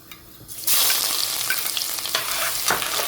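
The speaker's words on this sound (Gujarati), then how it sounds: "તેલ ગરમ થઈ ગયું. હવે આપણે નાખવાનું છે મેથી. ચાલો, મેથી થઈ ગઈ. હવે આપણે લસણ એડ કરવાનું છે." Fenugreek seeds and garlic hit hot oil with a sudden loud burst of sizzling that holds steady and close, with faint stirring, while cooking fresh crocodile fish curry.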